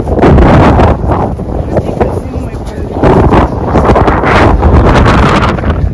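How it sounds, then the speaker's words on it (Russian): Strong winter wind buffeting the microphone outdoors near a wooden house, a loud continuous roar that surges in gusts. "Да, ветер сильный."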